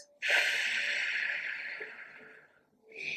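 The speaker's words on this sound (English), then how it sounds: "So we inhale 4, and hold gently, and then we exhale 6." A slow, deep breath drawn in loudly and steadily through the nose for over two seconds, then a quiet pause before a second breath begins.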